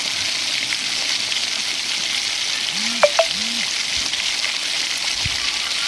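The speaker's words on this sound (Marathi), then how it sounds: "आपण भाजी चांगली मिक्स करत आहोत" Amaranth greens (tandulja bhaji) being stirred in a hot pan, a steady soft sizzle with a couple of brief clinks from the spoon partway through, no talking.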